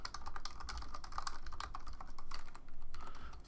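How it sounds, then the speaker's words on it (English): Rapid, quiet clicks and taps on a computer keyboard come in uneven bursts of typing, close up and soft, with no voices. "you might hear some more clicking because I have to look this up"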